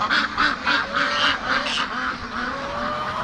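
Ducks in a pen quack in a loud, close chorus, a run of rhythmic repeated calls that thins out toward the end, with no talking over them.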